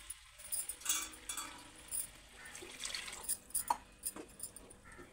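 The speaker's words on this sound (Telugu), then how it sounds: "2 గిలాసాల వాటర్ వేసుకుందాం." Water poured into a pot of spiced dal (lentils) for boiling, splashing and trickling in uneven bursts, fairly quiet and close, with light clinks in between.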